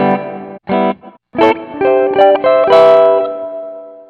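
Electric guitar notes and chords ring out through a ZOOM G1 X FOUR multi-effects processor with amp, cabinet and light spring reverb, giving a wet, processed tone with reverb tails trailing after each phrase; no voices.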